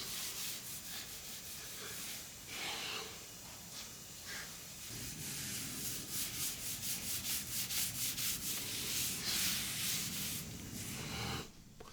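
Cloth rubbing polish into a wooden outdoor bar table, close and quiet, starting as scattered strokes and settling into a quick, regular back-and-forth rhythm that stops abruptly at the end.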